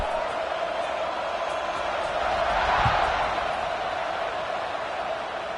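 A football stadium crowd at a Maryland game roars steadily through kickoff, a broad wash of cheering that swells slightly in the middle and stays loud and continuous without any distinct voices.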